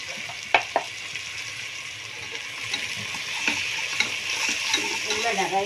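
Ginger and garlic frying in a pan, cooking for a coconut milk rice dish: a steady, close sizzle with a couple of sharp clinks of a stirring spoon early on.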